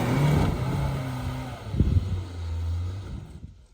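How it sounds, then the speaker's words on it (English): A Suzuki Jimny engine drones low and labored as it struggles to build momentum, a steady rumble that rises briefly and then settles, close and continuous. "here is my Jimny struggling to build enough momentum"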